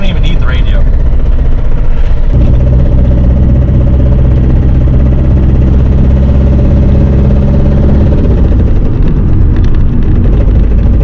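Dodge Neon ACR, 25 years old, driving with a thrown rod, a loud continuous engine drone with strong low harmonics that shift upward after a couple of seconds, steady and close throughout.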